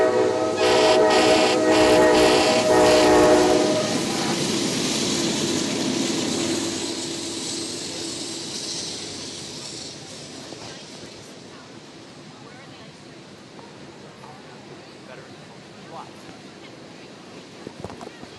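A freight train passes by during a holiday parade, starting with loud horn blasts and heavy rolling rumble that gradually fades into a long, quieter rattle of cars as it moves away, with voices in the background.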